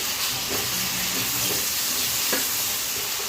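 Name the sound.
tomatoes added to hot pan, sizzling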